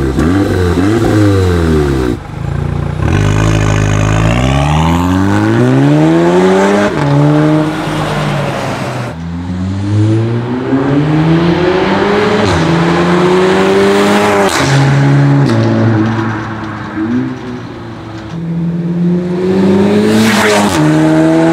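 Exhaust of an Audi S3 sedan fitted with a downpipe, heard from outside: repeated loud revs rising and falling in pitch with crackles between them, close and with no talk.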